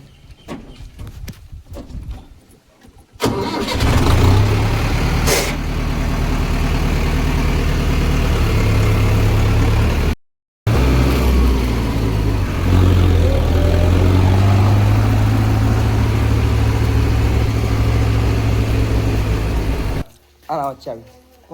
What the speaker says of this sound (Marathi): आता ट्रॅक्टर घेऊन डबत जायचं